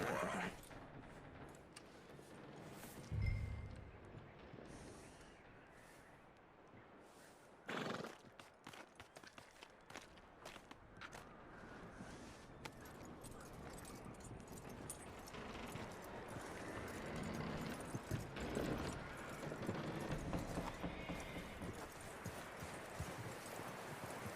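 Horse hooves clip-clop steadily in Red Dead Redemption 2 as the animal moves, with a loud close snort and whinny near the start and another sharp burst a few seconds later, over continuous game ambience.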